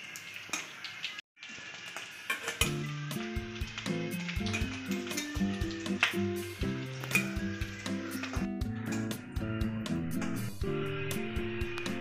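Fish roe fritters sizzle and crackle steadily in hot oil in a home kitchen pan, a continuous bubbling hiss heard under background music.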